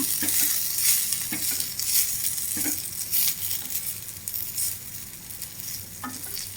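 A spoon stirs chili powder into food cooking in a pan, with steady sizzling and frying and repeated close scrapes and taps of the spoon against the pan.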